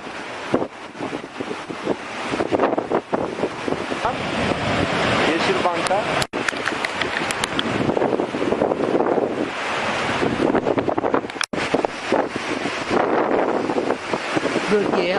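Storm wind roars across the Iskenderun coast in Hatay as high sea waves pound the shore, a loud, continuous blustery rush with buffeting gusts hitting the microphone throughout.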